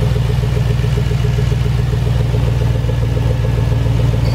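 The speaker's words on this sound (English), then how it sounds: "But we got the motor running." A 2003 Chevy Tahoe 1500 with a 5.3 V8 engine idling, heard up close as a loud, steady low rumble with an even pulsing beat and slight clatter, no voices.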